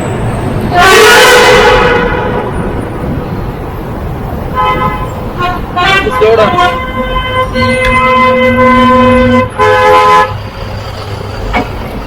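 Vehicle horns blare on a road between Bangalore and Cochin, near a stretch under construction: one loud near honk, then several more overlapping tooting blasts, some long and sustained, over a rumbling traffic background.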